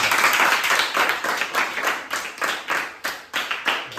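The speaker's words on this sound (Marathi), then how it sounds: "टाळ्या वाजत त्यासाठी" A group of students clapping for a classmate, brisk rhythmic applause close by in a classroom, a burst of evenly spaced hand claps for about four seconds.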